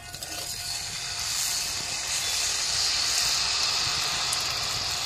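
Batter for gal-fulano pitha, a rice cake, fries in oil with a steady hiss of sizzling that builds slightly and holds, with no one speaking.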